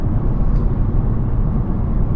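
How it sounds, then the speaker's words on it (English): A car exhaust gives off a steady low drone after a cheap DIY fix, heard from inside the car as a continuous loud rumble with no talking. "It's not completely quiet, but it definitely took most of the drone away."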